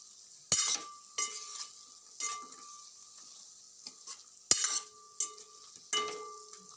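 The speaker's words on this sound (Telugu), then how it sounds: "ఉప్పు కారం వేసాక ములక్కాయలని మంచిగా కలపాలి" Drumsticks being stirred into sambar after salt and chili are added, a spoon scraping and clinking against the pot in a few separate strokes over a soft sizzle, close by, with no talk.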